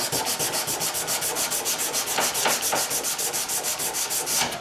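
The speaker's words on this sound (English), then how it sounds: "I'll get the sander out, the little multi-tool sander out to finish this off" A small multi-tool sander works over a wooden stair-stepped surface, its steady buzzing rub running continuously and close, with no pauses or voices.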